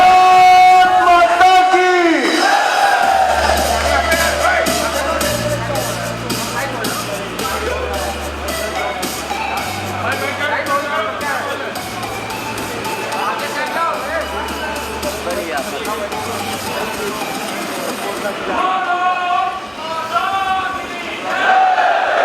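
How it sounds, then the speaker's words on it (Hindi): A crowd at a public speech event in Raebareli applauds and cheers to welcome the chief guest, loud sustained clapping and shouts that swell, with amplified voices over it and a sharp burst near the end. "जोरदार तालियों से स्वागत करिए"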